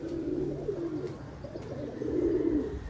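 A pigeon from a flock of breeder and high-flyer pigeons coos in low, rolling phrases, two soft bursts close by with a brief pause between, with no voices.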